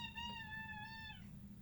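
A cat gives one clear, drawn-out meow lasting about a second, close and tonal over a faint low room hum.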